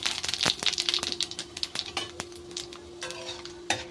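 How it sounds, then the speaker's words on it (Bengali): Four dried red chillies and panch phoron spices fry in oil, giving a light crackling sizzle broken up by crisp spoon taps and clinks against the pan, close and moderately quiet. "ভালো করে মশলাটাকে একটু ভেজে নিতে হবে"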